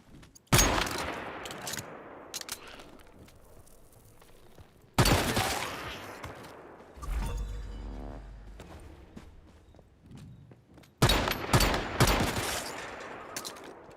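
Pistol fire in the video game Once Human, three separate loud bursts of close shots, each followed by a decaying tail and quieter gaps, with a low rumbling thud in between.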